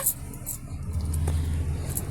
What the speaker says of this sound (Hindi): गाड़ी में एसी चल रहा है तो ठंडा हो रहा है